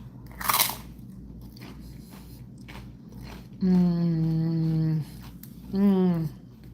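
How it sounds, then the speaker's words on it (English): A pork rind dipped in tomatillo salsa is bitten with a sharp crunch, a brief loud burst early on, followed by someone talking. "You're probably gonna hear a crunch."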